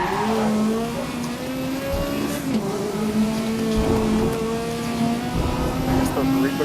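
Race car engines roar continuously in the GRID racing game, a steady high drone with shifting pitch as cars rev and accelerate, with tire noise and impacts mixed in and voices talking over it.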